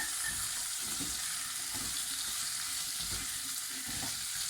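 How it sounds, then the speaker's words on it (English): Vegetables with ginger, garlic and spices sizzle in a pan for vegan Hyderabadi biryani, a loud continuous frying hiss with repeated low thumps and scrapes as they are stirred and mixed, close up and without talk. "Put all those vegetables in. Mix now."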